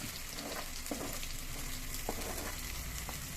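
Crushed shallots, garlic, ginger and green chilli frying in oil for a mackerel curry, a steady close sizzle with a few soft stirring scrapes and no talking.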